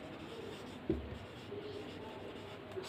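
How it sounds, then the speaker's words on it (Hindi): Marker or chalk writing on a board during a biology class on breathing, a short scratchy stroke with a tap, then faint scraping against quiet room tone, close by. "मैं लिखती हूँ"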